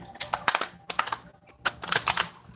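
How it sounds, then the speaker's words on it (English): Tarot cards are shuffled by hand close up, making quick bursts of crisp flicking clicks in separate clusters with short gaps between them. "I'll do 3 shuffles."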